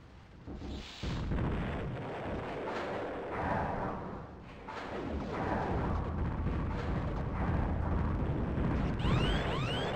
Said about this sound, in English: Those fusion pulse explosions are gnarly.